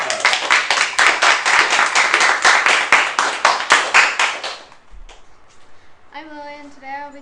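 A small group claps for a child's how-to demo, a dense burst of rapid hand claps lasting several seconds, loud and close, then tapering off as a voice begins speaking.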